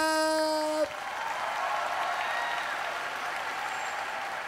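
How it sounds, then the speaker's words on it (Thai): On a televised singing competition stage, a sustained musical note cuts off and a studio audience breaks into steady, dense applause that carries on evenly at moderate volume. "ขอเสียงปรบมือกับน้องไข่มุกครับ"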